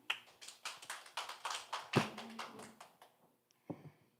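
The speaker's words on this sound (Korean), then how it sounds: "다시 한번 박수 부탁드립니다" A small crowd claps at a residents' general assembly in Hongje 3-dong, a fairly quiet round of distinct hand claps that thins out and stops, with a few last scattered claps near the end.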